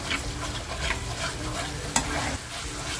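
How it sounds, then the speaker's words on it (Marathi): A masala fried in a small amount of oil and stirred in a pan gives a steady, close sizzle with scraping stir strokes and one sharp tap. "मग आपला मसाला छान फ्राय होत आलेला आहे"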